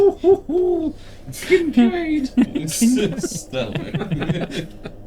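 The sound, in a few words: owl hooting, imitated by a player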